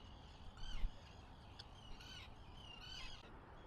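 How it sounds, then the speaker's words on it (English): Several crows caw over a bay, rough calls coming in short bursts from some distance above steady wind and water noise. "I got a couple of birds flying by"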